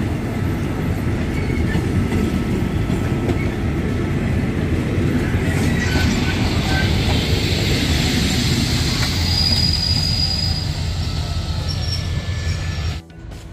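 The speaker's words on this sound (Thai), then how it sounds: "รถกำลังเข้าชานชาลาหนึ่งฮะเคลื่อนมาแล้ว" A passenger train pulls into a platform at Bang Sue station in Thailand with a loud, steady rumble of wheels and carriages. A rising squeal of brakes builds toward the end, up close.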